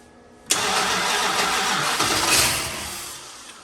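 An old barn-find Monaco, unstarted for 36 years, cranks and briefly catches with a sudden loud burst, sputtering and rumbling roughly for a few seconds before dying away.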